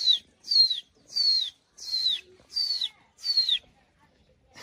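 A human voice imitates a chick calling, giving six evenly spaced high, thin descending peeps, close and clear with short silences between them.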